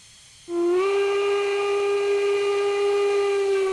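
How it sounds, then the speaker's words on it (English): A steam locomotive whistle, CPRR No. 60 in Train Simulator 2017, starts abruptly and holds as one loud, sustained, steady chime tone with a faint hiss underneath, heard alone. "we would sound 2 whistle blasts"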